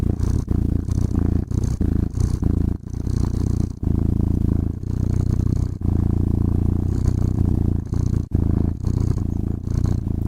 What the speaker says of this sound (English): It plays the sound of a cat purring.